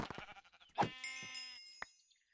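Sheep in a video game letting out a short wavering bleat, clean and isolated against silence, preceded by a few soft clicks and followed by a faint tap.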